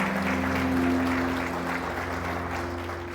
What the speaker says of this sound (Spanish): ¿Cuántos aplauden el nombre del Señor?